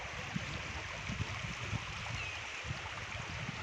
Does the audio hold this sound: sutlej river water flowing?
yes